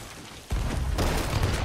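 A ship's cannon fires in the pirate game Sea of Thieves: a sudden heavy boom breaks a quiet moment, followed by a second blast, then rumbling noise that lingers loudly.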